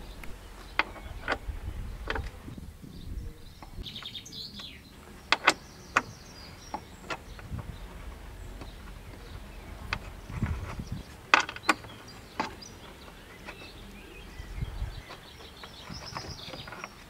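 A small ring spanner works a 10mm hex adjuster nut on a Skoda Fabia Mk1 headlight unit: scattered sharp metallic clicks and ticks at irregular intervals over a quiet background hum.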